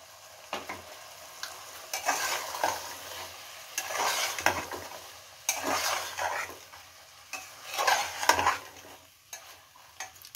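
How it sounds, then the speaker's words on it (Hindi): Mixed vegetables sauté in a pan for daliya khichdi, with a soft sizzle beneath repeated scraping and clinking strokes of a spoon stirring in uneven bursts. "दो मिनट इसमें भून लेते हैं।"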